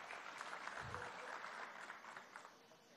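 Applause in a hall during a presidential annual address in Venezuela, a steady sustained wash of clapping from a large, somewhat distant crowd, fading slightly at the end.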